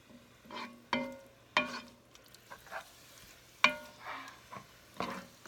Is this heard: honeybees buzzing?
no